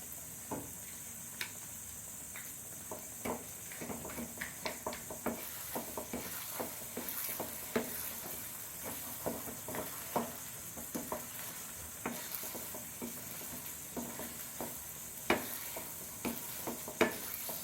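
Rava kesari with cardamom, nutmeg powder and cashews cooks in a pan, a soft steady sizzle under frequent scraping and tapping strokes of a spoon stirring the thickening semolina, fairly quiet and close.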